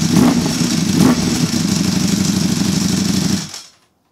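Ducati Panigale V4 SP2 motorcycle with an Akrapovic exhaust and dry clutch running close by in an echoing space, a steady loud engine drone with a couple of brief revs early on, cutting off abruptly near the end.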